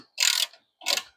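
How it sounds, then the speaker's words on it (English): A ratchet tightens a bolt on a Honda supercharger belt setup, two short raspy bursts of clicking separated by a brief pause, close and clear. "we're gonna be tightening this bolt right here and that bolt right there to lock everything in place"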